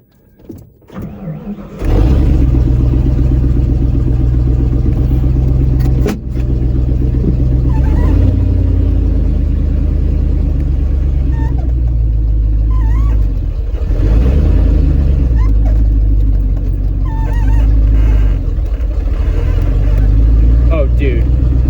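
A 1993 Ford F-150 pickup with a swapped engine starts and then runs loud and close on a test drive, droning steadily with shifting revs while a voice talks at times.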